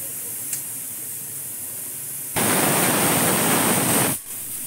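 Steam rushes out of a pressure cooker after its whistle, a loud broadband hiss that bursts in partway through, holds steady for about two seconds, then cuts off.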